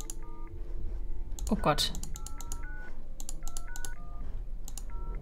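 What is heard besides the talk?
mobile phone keypad button tones in a video game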